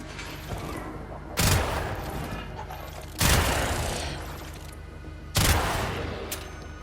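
Vouna sniper rifle in Warframe firing three heavy, booming shots spaced about two seconds apart, each with a sharp crack and a long reverberant tail, over a steady low game ambience.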